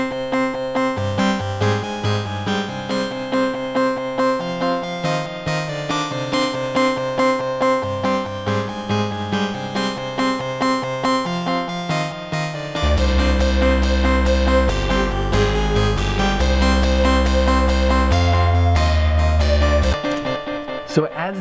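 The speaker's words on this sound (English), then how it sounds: "it has a delay effect that's kind of pumping in and out" Electronic dance drop with a synth whose higher notes carry a delay that pumps in and out with the beat, over steady loud music that thickens with heavy bass partway through.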